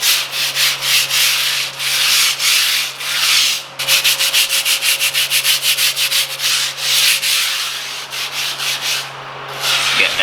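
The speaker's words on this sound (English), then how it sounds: "hand scrubbing just the kitchen area here, and you can see the breakdown of all that soil" Hand scrubbing of dirty, heavily soiled kitchen tile and grout makes a close, rhythmic scratchy brushing. Strokes come in steady back-and-forth bursts, speeding up into rapid short strokes midway, over a faint steady hum.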